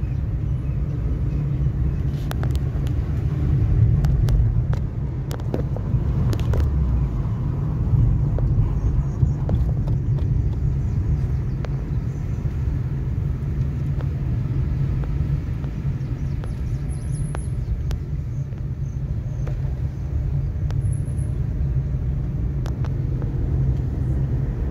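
A car rolling downhill on the Nahargarh Fort road gives a steady, loud low rumble of engine and road noise that holds for the whole stretch, with no talk.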